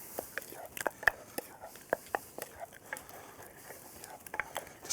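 Wild mushroom eggs being turned over in a pan on a stove, soft scraping and light taps of a utensil against the pan in an uneven rhythm over a gentle sizzle.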